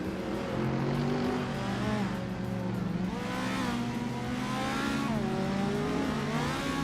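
A 1970 Alfa Romeo GTAC race car drives hard, its engine note climbing and dipping through gear changes in a loud continuous roar, with other race engines blending in and no one talking.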